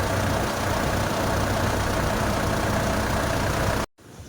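Mitsubishi Strada pickup engine running loud and steady at idle, up close, then cutting off abruptly to near silence.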